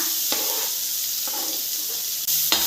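Chopped onion sautés in oil in a pan, a steady close sizzle punctuated by a few stirring scrapes and taps at irregular intervals.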